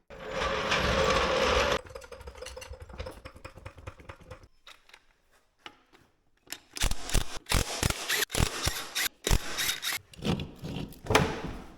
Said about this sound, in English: I'm gonna go after the chain, trying to take it off back here.